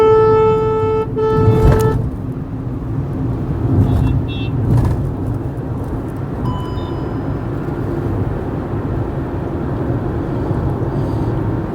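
Road traffic rumbles steadily as cars pass close by, with a sustained horn blast early on and shorter toots later, partly under a voice talking.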